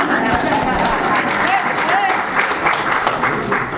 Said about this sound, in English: Don't hold your applause. Please clap.